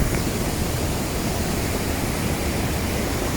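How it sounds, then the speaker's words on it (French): A mountain waterfall cascading through a gorge near Chamonix in summer, a steady dense roar of falling water, loud and close, unbroken throughout with no voices. "Ces cascades."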